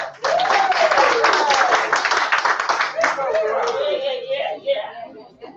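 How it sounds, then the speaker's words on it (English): An audience claps and cheers in a sustained round of applause lasting several seconds, with scattered voices and laughter mixed in before it thins out. "Give yourself a round of applause."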